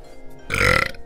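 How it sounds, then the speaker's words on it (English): A single loud, close burp after a drink of orange juice, a short throaty belch lasting under half a second amid quiet room sound. "I didn't expect a burp because I'm just drinking the OJ."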